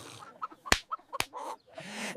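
A chicken clucks in short, close bursts after emerging from a sack, with a couple of sharp slap-like hits between the clucks.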